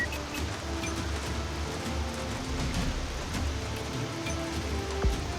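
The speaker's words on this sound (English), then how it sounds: "It's raining." Rain in the tactical video game Troubleshooter: Abandoned Children, a steady dense hiss of falling drops with faint low rumbling underneath, continuous for several seconds, with no speech over it.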